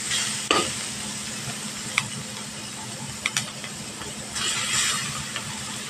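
Pressed, squeezed-out radish being stirred in a pan for Bengali mulo chhechki, a steady scraping stir over a soft frying sizzle with a few sharp utensil knocks, close and alone without talk.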